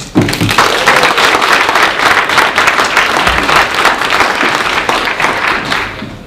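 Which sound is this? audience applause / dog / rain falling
audience applause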